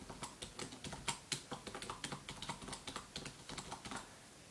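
Fingers type on a computer keyboard in a quiet room, with soft, rapid, irregular key clicks that sound close and gentle and carry on steadily throughout.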